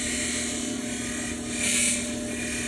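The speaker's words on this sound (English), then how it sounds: "you take the stone and you work it around on the wheel" A stone is worked against a spinning lapidary grinding wheel, a steady whirring hum with a brief rise in grinding pitch as the stone presses in.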